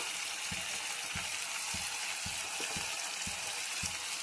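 Ground turmeric and cumin fry in hot oil in a pan, a dense, even sizzle that runs throughout with regular light clicks from stirring, close and alone.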